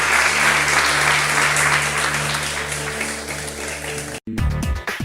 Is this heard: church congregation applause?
yes